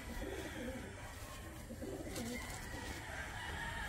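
An ice pigeon coos in soft low murmurs against a constant noisy background, with faint bird calls mixed in over a few seconds.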